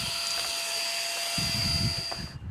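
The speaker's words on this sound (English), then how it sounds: "with my little drill I'm going to mix it up" A small electric drill mixing liquid in a jar whirs steadily at high pitch, with a low churning rumble underneath, then winds down near the end.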